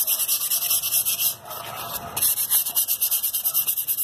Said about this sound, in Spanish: Voy a lijar esta parte solo para que vean cómo es el lijado